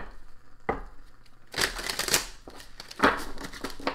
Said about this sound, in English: this deck's so big, I'm going to break it up to shuffle